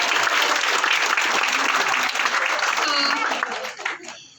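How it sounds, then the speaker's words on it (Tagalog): A crowd claps steadily in a dense, sustained burst of applause that fades out toward the end. "Pwede po bang pumalakpak ng mas malakas?"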